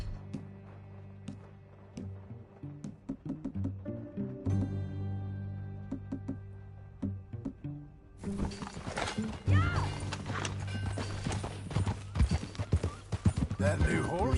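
Horse hooves from Red Dead Redemption 2 pound in a steady galloping rhythm, loud and close, building into a dense rush of hoofbeats and movement over game music, with a whinny among them.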